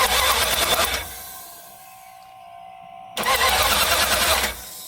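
A 1978 Dodge Power Wagon Macho engine cranks and catches in two loud, close bursts, with a quiet pause between them.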